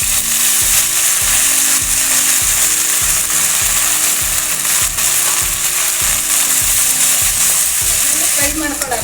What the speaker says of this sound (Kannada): ಫ್ರೈ ಮಾಡ್ಕೊಳ್ಳೋಣ ಹಸಿ ವಾಸನೆ ಹೋಗೋರಿಗೆ